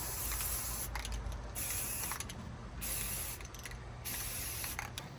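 Spray paint hisses steadily onto a rifle, with a few short pauses and clicks between passes of the can. It sounds close up, with no talking.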